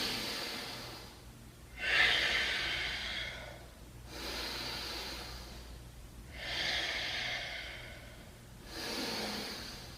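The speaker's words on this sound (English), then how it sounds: "Give me 5 good breaths" Slow, deep breaths are taken in warrior 2 yoga pose, four long airy exhales at a steady rhythm, quiet and close with a soft hum underneath.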